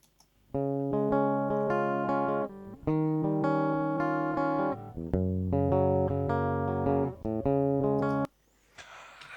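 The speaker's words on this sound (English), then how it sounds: "just a slight little arpeggio style guitar part" A clean, dry electric guitar, recorded direct input, plays a gentle arpeggio, notes ringing in sequence with brief pauses between phrases, close and clear.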